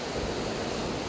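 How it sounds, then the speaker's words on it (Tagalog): Big ocean waves crash on the shore during a typhoon, a loud, continuous roar of surf and wind that fills the whole clip with no breaks. "Ang laki ng alon."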